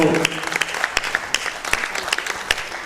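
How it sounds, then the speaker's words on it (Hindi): Scattered, moderately loud clapping from a small audience at a Hindi drama festival play, with a voice faintly audible underneath. "आप जोर से तालियां इनके लिए"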